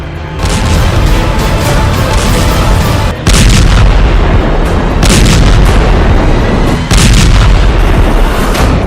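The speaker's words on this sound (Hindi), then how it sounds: "लेबनान की राजधानी बेरूत धमाकों से दहल गया" Explosions from Israeli airstrikes on Beirut, Lebanon: loud, continuous thundering blasts and rumbling booms that roar without pause, with a few abrupt cuts between bursts and no voices.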